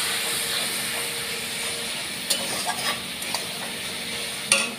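Spice masala cooks in oil with a low, steady sizzle, punctuated by a few sharp scrapes and clicks of a spatula against the pan, close but fairly quiet, with nobody speaking.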